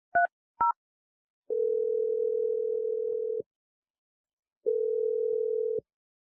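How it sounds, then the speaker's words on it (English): Telephone being dialed: two short keypad tones, then two long steady ringback tones with a silent gap between them, heard alone with no talk. "I'm dialing number right now."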